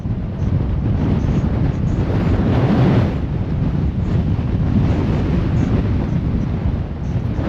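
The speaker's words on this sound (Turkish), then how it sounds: "Bak şimdi rüzgar beni nasıl geriye atıyor." Strong wind in the Patagonian desert buffets the microphone in a steady, heavy low roar that swells slightly midway, with no voices.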